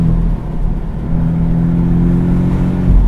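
Porsche 718 Boxster S launching on a loose surface in Portugal, a loud steady engine roar and heavy low drone heard from inside the car throughout, with no talking.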